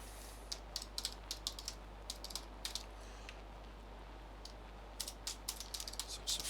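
Code typed on a computer keyboard, quiet bursts of rapid key clicks with a short pause in the middle, close and alone over a low hum.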